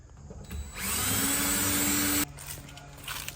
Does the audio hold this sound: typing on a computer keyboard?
no